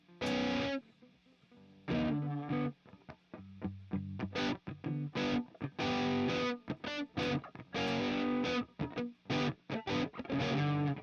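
Heavily distorted electric guitar plays choppy chords and riffs with effects, loud and close, in bursts with short gaps.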